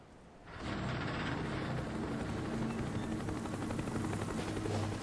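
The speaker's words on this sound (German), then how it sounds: "Helikopter." A helicopter in the video game Call of Duty Black Ops 3 roars in after a brief quiet start, its steady, loud rotor drone holding constant and close for the rest of the clip, with no talking.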